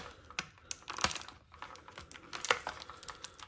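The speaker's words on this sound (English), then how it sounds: "Sticky tape is very sticky." Sticky tape peeled and pulled from toy packaging makes sharp, irregular crinkling and ripping bursts, close and fairly quiet, with brief pauses between pulls.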